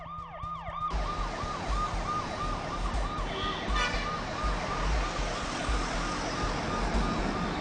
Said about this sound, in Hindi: एम्बुलेंस को बुलाओ, मैं आ रहा हूँ।